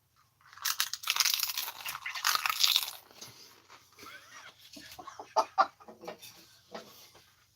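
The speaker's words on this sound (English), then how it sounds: "You just hear me crunching away." Someone eats something crunchy close to the mic, a dense burst of loud crunching early on followed by softer, scattered bites and chewing sounds.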